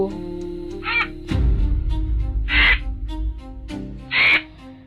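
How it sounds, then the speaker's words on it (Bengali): Three harsh, raspy crow caws spaced a second or two apart, sounding somewhat distant over a low, steady droning rumble. "দূরে কালো কাকের ডাক শোনা গেল।"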